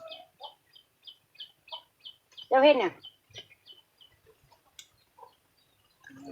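Chickens cluck in short, repeated calls throughout, with one louder, drawn-out squawk near the middle, while a person speaks briefly in the background.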